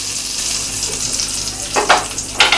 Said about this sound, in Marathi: ये आता बघा कसं मस्त तडको. हा असा आवाज येऊया.